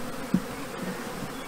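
Honeybees hum steadily around a hive entrance after a swarm, a continuous close buzz with a few louder passes of individual bees near the microphone.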